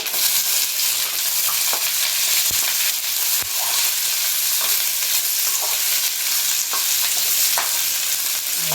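Onions frying in hot oil with mustard seeds for a drumstick leaf and peanut poriyal, a loud continuous sizzle with faint stirring taps close by, with no talking.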